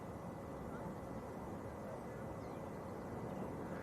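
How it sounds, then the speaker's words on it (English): Ryanair airliner from Malaga touching down at Manchester Airport, a steady, distant broadband roar of jet engines and rushing air held evenly throughout, with faint background chatter beneath. "Ryanair from Malaga just touching down."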